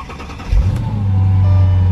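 A Mercedes CL500 engine cranks and catches half a second in, then settles into a loud, close, steady rumbling rev with a low hum.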